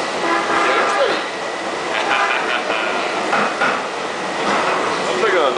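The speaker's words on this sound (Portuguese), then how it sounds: "Andando aqui no metrô do Cariri." A Cariri metro train rumbles and clatters along a street while riding aboard, with rail noise, some metallic tones and knocks, and passengers talking intermittently under the continuous ride noise.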